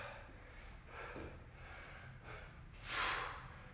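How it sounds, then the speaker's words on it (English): A person exhales forcefully during a weighted floor workout, a few soft breathy puffs building to one louder, sharper snort-like breath out near the end, close and with no talking. "Breathe out, coming up."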